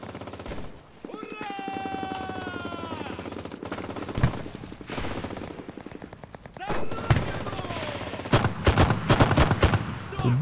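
Gunfire in the World War II shooter Enlisted during a battle for Moscow: bursts of automatic fire and sharp shots, heaviest near the end, mixed with battle noise and voices.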